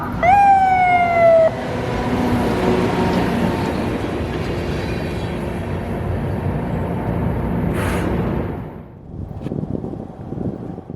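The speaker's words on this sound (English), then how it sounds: "Listen to the horn they use when they see me. It sounds like a police siren" A freight train locomotive horn blares loud and close with a rising, siren-like wail for about a second and a half, then the heavy rumble and clatter of the passing train carries on, fading out near the end.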